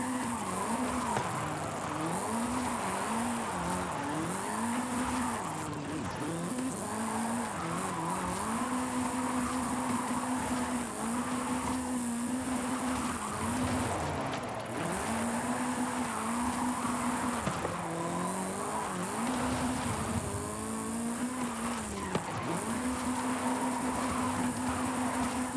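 A JDM car drifts in Forza Horizon 5, its tires squealing in a steady, wavering whine over a constant engine drone that rises and dips through the slides for the whole stretch, with no voice heard.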